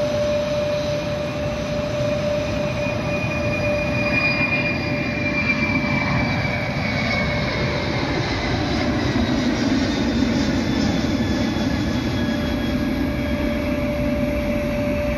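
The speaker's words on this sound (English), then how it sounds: "This Boeing 767 disappearing after takeoff." A Boeing 767 jet climbing after takeoff near LAX roars steadily overhead, a loud continuous engine rumble with a high whine on top that holds for the whole stretch, with no one speaking.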